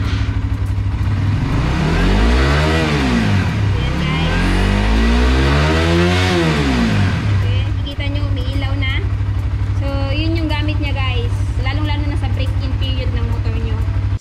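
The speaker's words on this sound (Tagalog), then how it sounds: "I-start muna natin itong si GSX." A Suzuki GSX-S150 motorcycle engine starts and revs hard, rising and falling loudly several times up close, then settles into a steady idle while a person talks over it.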